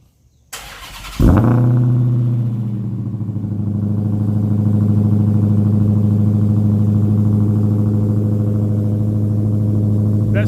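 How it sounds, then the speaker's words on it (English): A Dodge Redeye's engine cold-starts with a starter whir and sharp catch, then settles into a loud, steady, rumbling high idle that stays close and unbroken for the rest of the stretch. "Let's have a cold start."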